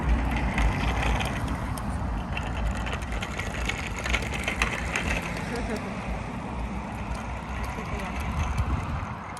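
Bicycle ridden on a path in Finland, a steady ratcheting freewheel click and rolling mechanical rattle close by, with voices talking over it.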